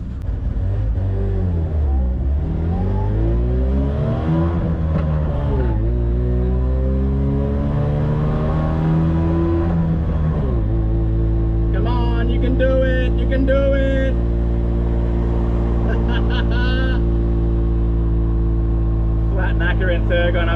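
Rebuilt engine of a Daihatsu Fellow pulling steadily while driving, a loud continuous drone that shifts pitch as it revs and settles, with someone talking over it throughout.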